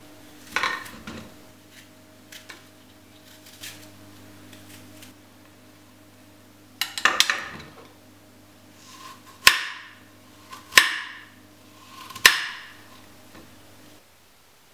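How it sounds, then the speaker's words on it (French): Apples being peeled and cut into small dice with a knife, scattered scraping strokes early on, then several sharp, distinct knife taps on a board a few seconds apart, close by and alone under a steady low hum. "On commence par éplucher et couper nos pommes en tout petits dés."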